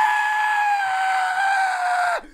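A man imitates a scream of pain with his voice, one sustained loud wailing tone held for about two seconds before cutting off abruptly, recorded alone in a camper.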